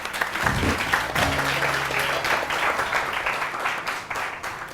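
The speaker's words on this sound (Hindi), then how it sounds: "रानी आपा के लिए बहुत सारी तालियां।" A studio audience on a TV morning show applauds steadily and loudly, dense clapping sustained for several seconds.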